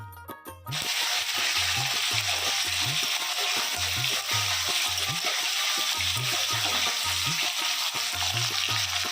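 Steady loud sizzling of spinach curry cooking in a hot pan, with a regular rhythmic scraping of stirring throughout and no talking.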